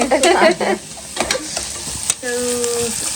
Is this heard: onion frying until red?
yes